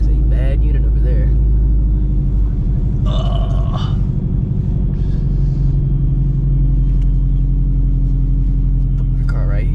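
A supercharged Shelby GT350 rumbles with a deep, loud, steady low-end drone as it pulls up to park, with people talking over the engine throughout.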